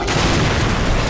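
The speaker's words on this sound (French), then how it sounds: "Ça explose de partout." Explosions in the video game Battle for Los Angeles, a dense, loud, continuous rumbling barrage of booms with no pauses, heard alone.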